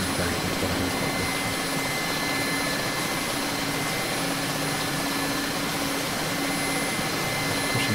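A Mil Mi-8 MTV helicopter taxiing in the DCS flight simulator, its turbine engines and rotor making a loud, steady whine and roar with a faint rhythmic rotor thump, continuous and without talk.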